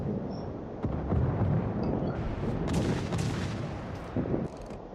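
Warship guns fire in World of Warships, a dense rumbling barrage of booms and crackling blasts that stays loud and continuous, with sharper bursts layered over a heavy low roar.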